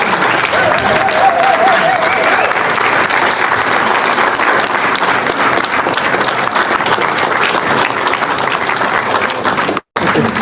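A crowd claps long and loudly to welcome a speaker at a gathering in Burkina Faso. The dense, steady applause carries voices and a faint whistle, then cuts out briefly near the end.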